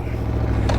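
Steady low rumble of a 2023 Aprilia Tuono V4 Factory motorcycle engine running close by, with a brief rising rev at the very end.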